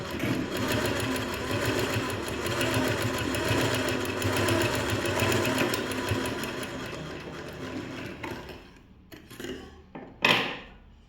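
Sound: sewing machine stitching blouse fabric

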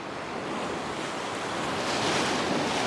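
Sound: waves and surf on a beach

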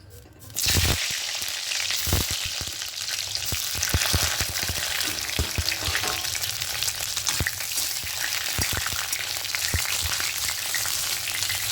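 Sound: eggplant frying in mustard oil

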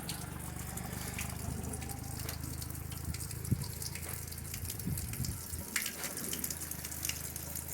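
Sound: water constantly running from spring troughs

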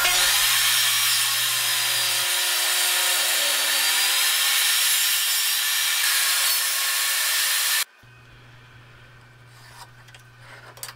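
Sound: sawing off extra from a guanacaste wood bowl blank

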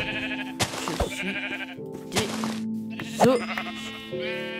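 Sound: sheep bleating in Minecraft video game

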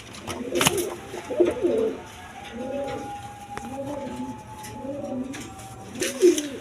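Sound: pigeons cooing

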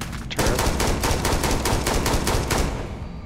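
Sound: turret gunfire in Starfield video game

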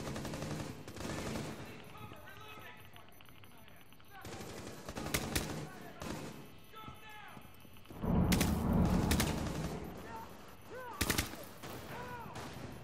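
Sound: gunfire in the video game Rainbow Six beta

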